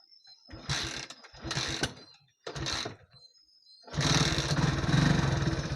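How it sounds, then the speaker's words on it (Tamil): A 2017 TVS XL100 moped engine cranks in two short bursts, catches briefly, then starts and settles into a steady, close, buzzing idle. "வண்டி ஸ்டார்ட் பண்ணுறோம் பாருங்கள்."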